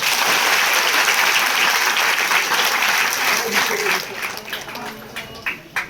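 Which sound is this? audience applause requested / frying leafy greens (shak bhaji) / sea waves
audience applause requested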